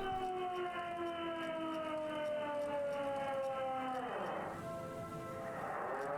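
A wailing siren in the video game Disco Elysium, with a falling, harmonic pitch, sweeps down twice, fairly faint and steady, with no talk over it.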